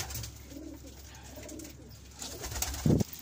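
Soft pigeon coos murmur close by in a pigeon loft against a hushed background, ending with one louder throaty coo.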